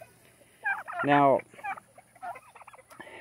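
Juvenile turkeys call close by, with one loud, rising, harmonic burst standing out amid shorter, softer chattering calls, and a voice briefly speaks near the start.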